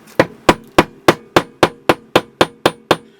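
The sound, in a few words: tapping with a hammer while making a ferro rod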